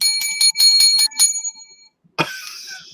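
A bell rings in a quick series of about six bright, sustained strikes, followed by a short silence and then a sharp, noisy burst.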